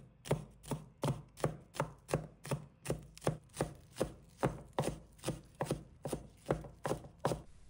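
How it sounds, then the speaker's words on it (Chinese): A knife chops spring onions into fine pieces on a cutting board, about twenty sharp, evenly spaced thuds in a steady quick rhythm, close and clear with no talking. "几根小葱，把它切成葱花"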